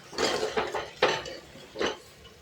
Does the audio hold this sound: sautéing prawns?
yes